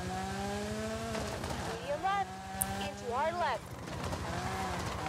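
A rally car in a racing video game revs hard as the driver works the handbrake through a corner. Engine pitch climbs and swoops over about five seconds while someone talks throughout.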